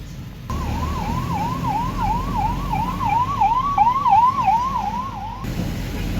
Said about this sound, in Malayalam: നമ്മളെ പാസ്സാക്കിയിട്ട് വന്ന ആംബുലൻസ് ഇടണ്ട് കേട്ടോ